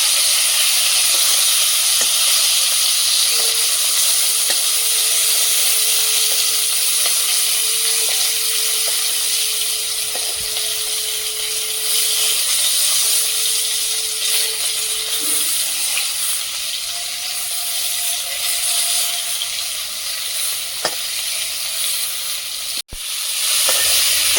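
Shol fish (snakehead) fry in a pan with a steady, loud sizzle and hiss that runs unbroken for the whole stretch and sits close to the mic. No one speaks over it.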